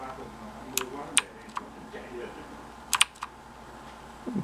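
Keys clicking on a compact Jelly Comb 87-key mechanical gaming keyboard, a few sharp, close presses spaced irregularly in small bursts over a low room hum.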